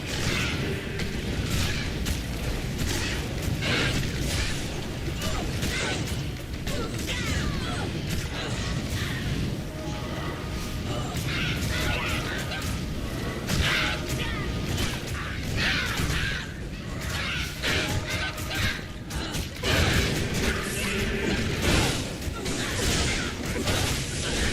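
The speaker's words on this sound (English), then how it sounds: "Some corpse explosions." Dense, continuous Diablo II: Resurrected combat noise from Necromancer corpse explosions, repeated booming blasts and crashing impacts layered over a busy rumbling background.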